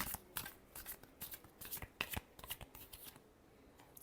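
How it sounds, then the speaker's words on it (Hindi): Tarot cards are shuffled close by in quiet, rapid bursts of papery riffling and flicking that repeat in quick succession, with no voices. "Last shuffle."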